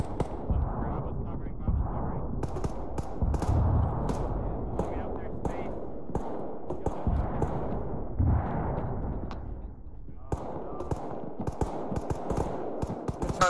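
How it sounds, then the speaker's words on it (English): Suppressive gunfire in an Arma 3 firefight: continuous rattling rifle and machine-gun shots with sharp cracks, heavy thuds and booms, sustained throughout under frequent radio-style talk. "All call signs, I want suppressive fire on the northwest side."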